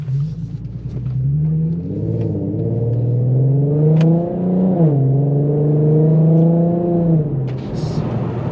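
A tuned Infiniti Q50's VQ engine running on E85 rumbles and revs up, pitch climbing and holding before dropping back, heard from inside the car with windows partly down over road noise.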